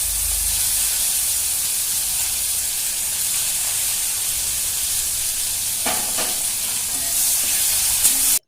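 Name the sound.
onion frying with bay leaves, dried chilli and cumin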